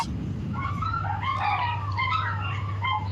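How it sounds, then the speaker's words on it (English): Several dogs barking and yipping in a continuous, overlapping chorus heard over a phone line during a radio call, with a steady low hum underneath. "We've got a lot of dogs barking."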